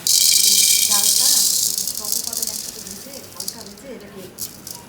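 Masoor lentils and polao rice dry-frying in a pan, a loud sustained hissing rattle of grains tossed over heat that eases off gradually while voices talk over it.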